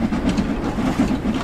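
A steam locomotive on the Liverpool–Crewe line in Train Sim World 2 pulls away, with a steady low rhythmic chuffing that pulses evenly and close, with no voices.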